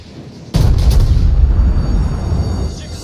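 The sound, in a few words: warship gun shots and explosion in a naval video game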